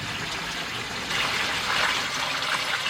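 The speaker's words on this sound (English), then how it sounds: "the water's basically seeping down around the back of the bowl underneath the spillway and into the pond" Water pours steadily from a 19-inch Aquascape spillway bowl into a garden pond, a continuous close splashing trickle that swells slightly partway through.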